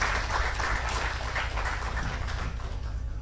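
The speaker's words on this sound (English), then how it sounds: "Give the greatest applause for our distinguished guests" Audience at a global summit on sustainable innovation and green technologies applauds distinguished guests, a steady spread of clapping across a hall with a low hum beneath it.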